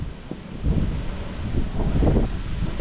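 Wind gusting across an outdoor microphone beside a 1959 Ford F-600 straight truck with a Y-block engine, a low rumbling buffet that swells and surges in uneven waves, with no talking.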